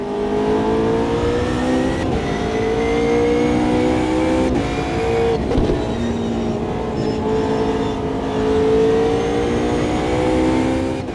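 Several AI GT3 race cars in Automobilista 2 roar around a track, engines revving hard with repeated upshifts and pitch climbs, loud and close, with other cars droning alongside.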